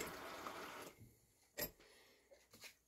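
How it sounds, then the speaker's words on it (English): Water poured into a plastic container for a grow-towel demo, a faint steady trickling pour that stops about a second in, followed by a few quiet knocks and handling sounds. "Then you put water in"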